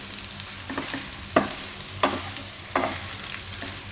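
Millet and wheat flour mixture stirred in a hot pan, a soft sizzling scrape with three sharper utensil strokes standing out over a steady frying hiss, no voices.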